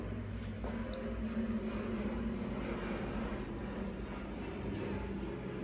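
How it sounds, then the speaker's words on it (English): An airplane passes overhead as a steady low rumbling drone, muffled and heard from inside an underground chamber at a historic fort, continuous with no talking. "we were underground and you can hear this airplane flying over."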